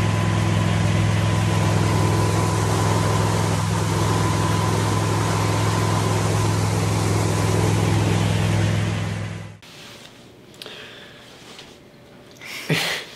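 A boat motor drones steadily at low pitch for about nine seconds, then cuts off, leaving quieter ambient noise with a brief bump near the end.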